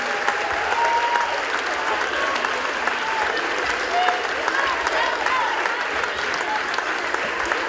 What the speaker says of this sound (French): Je crois qu'on peut les applaudir de retour